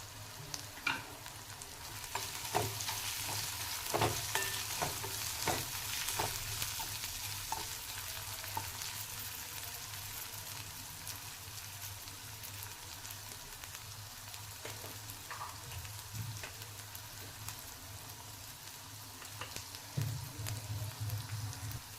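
Onion and tomato fry in a pan with turmeric and spice powders for potato bhurji, giving a soft continuous sizzle with scattered spatula scrapes and stirring taps, fairly quiet and without talk.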